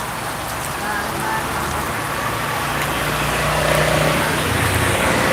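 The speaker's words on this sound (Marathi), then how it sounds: "पाऊस पण तुम्हाला दिसत असेल" Heavy rain pours in a dense, steady roar, with a low hum of passing traffic beneath it.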